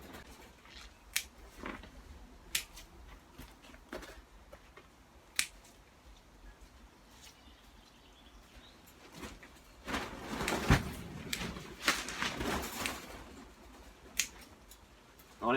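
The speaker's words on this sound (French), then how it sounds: "On enlève les gourmands." Scissors prune suckers from tomato plants in a greenhouse, with a scattered series of sharp snips and clicks at irregular intervals, some in quick clusters, close by over faint rustling and no talk.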